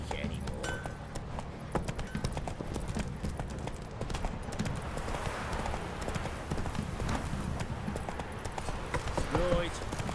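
A horse gallops in The Witcher 3: Wild Hunt, with rapid, steady hoofbeats pounding close and loud throughout and voices talking over the rhythm.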